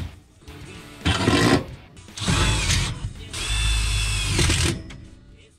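A power drill drives screws into an HVAC platform in a new home, three separate bursts of whirring and ratcheting, each a second or so long, with short pauses between and the last run longest.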